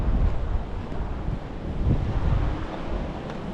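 Strong wind at a rocky seashore buffets the microphone in a steady low roar, with surf washing beneath it and slight gusts rising and easing throughout.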